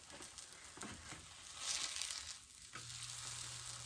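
Pikelets frying in a pan, a steady close crackling sizzle that swells for a moment and then settles back to a continuous hiss with no talk.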